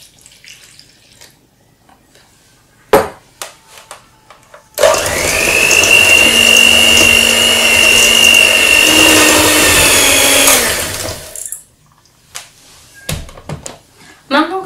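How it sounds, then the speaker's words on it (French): An electric hand mixer whirs steadily through cupcake batter for about six seconds, loud and close, with a high whine from the motor, between quieter stretches of kitchen clatter and talking. "Et je vais mélanger tout ça avec le batteur électrique pendant quelques minutes pour que ça fasse un mélange bien homogène"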